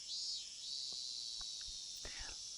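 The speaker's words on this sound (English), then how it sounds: "Lethargy, induced by the voices of the cicadas." Cicadas drone in the video game Higurashi, a steady high-pitched shrill buzz sustained throughout, with a few soft low thumps and faint sounds underneath.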